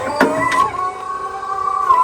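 An electric loader tractor's quick hitch mechanism extending, with a steady mechanical hydraulic whine and a few clanks, close and continuous.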